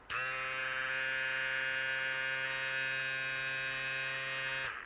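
A Meisho M7 single-foil electric shaver, unusually large, runs steadily for about five seconds with a close, loud, even buzzing hum and no talk over it.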